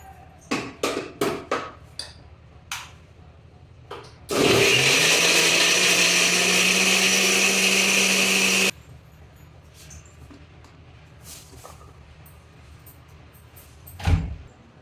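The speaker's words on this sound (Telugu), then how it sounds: "వీటన్నింటినీ మనం ఇప్పుడు మిక్సీ జార్లో వేసుకున్నాం కదా, మెత్తని ప్యూరీ లాగా చేసుకోవాలి" An electric kitchen mixer grinder purees tomatoes in its jar, roaring loud and steady for about four seconds. A few sharp clicks and knocks of handling the jar come before and after the run.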